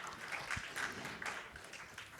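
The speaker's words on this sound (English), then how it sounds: "Let's give him a warm round of applause" A conference audience applauds a speaker being welcomed on stage, a steady wash of clapping from a crowd that sounds somewhat distant and fairly faint, with no voices over it.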